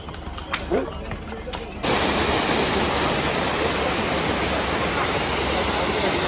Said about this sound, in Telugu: చిన్న వాటర్ ఫాల్ ఉంది.